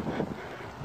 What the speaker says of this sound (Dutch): dat is de wind gewoon